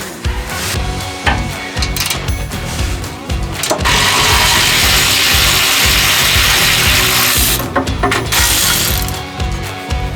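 Bolts on exhaust manifold flanges are broken loose with a ratchet: quick repeated clicking bursts give way to a sustained loud whirring run, then more clicks, all close up with no talk.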